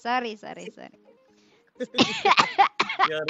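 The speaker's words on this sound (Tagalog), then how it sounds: "Sorry, excuse me sa ubo ko." A woman coughs several times in harsh, closely spaced bursts, with brief talk and laughter around the coughing.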